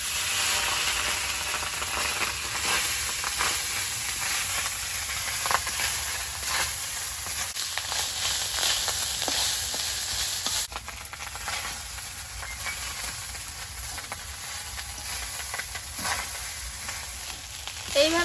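Rice stirred into hot oil with whole cumin, bay leaf and dried red chilli sizzling in a pan, a steady, close frying hiss with occasional scraping stirs.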